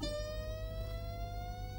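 A Roland XP-80 synthesizer sustains a single bright tone whose pitch glides slowly and smoothly, holding steady and loud throughout without any other sounds.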